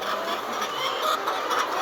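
Layer hens on a poultry farm cluck in a dense, continuous chorus, a loud wash of many birds with no break.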